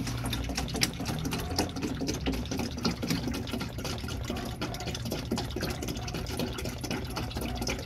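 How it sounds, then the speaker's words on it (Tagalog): Dark transmission oil drains from a 2011–2014 Ford Everest, a steady close trickle and patter of liquid that runs continuously and evenly, with no talking. "Bubuksan natin yung filling plug nya para bibilis ng kanyang tulo."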